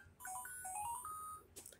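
Xtransceiver ringing in Pokemon Black, a short bright electronic melody of rising chiming tones lasting just over a second, clear and alone, followed by a faint clatter.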